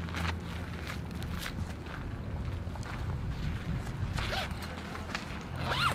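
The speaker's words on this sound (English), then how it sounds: "So we got a zipper on the door." A winter wall tent's door zipper rasps in several quick, scratchy pulls close to the microphone, mixed with rustling fabric and light wind noise.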